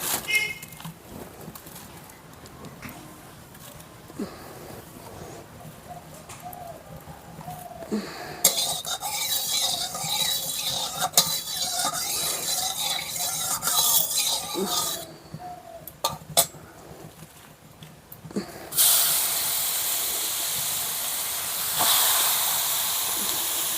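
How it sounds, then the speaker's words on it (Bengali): Carrots frying in ghee in a hot kadai for carrot halwa: a steady hiss and sizzle with clinks of a spoon against the pan, rising to a loud, bright sizzle toward the end; a person talks at times. "এবার আমি গাজরটাকে ভেজে নেব।"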